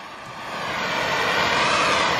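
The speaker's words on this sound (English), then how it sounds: "Using the torch, I am able to briefly ignite the emitting gas." Syngas from a homemade gasifier igniting at the burner, a loud, steady roaring whoosh that swells in the first half second and then holds.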